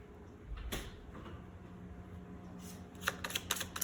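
Tarot cards are shuffled at close range, soft riffling and flicking bursts, a few early and a quick cluster toward the end, over a faint steady room hum.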